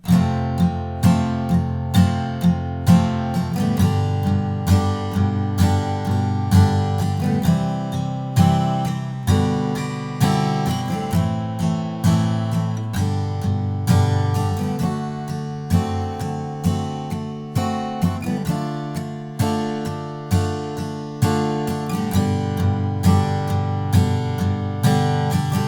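Acoustic guitar strums through the bridge chords of Bruno Mars's When I Was Your Man, steady rhythmic chord strokes ringing out clearly and alone for the whole stretch.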